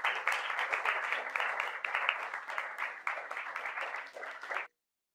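Clapping in a Second Life virtual-world orientation, a crisp, even burst of many hands applauding in rapid patter, continuous for over four seconds before cutting off abruptly into silence.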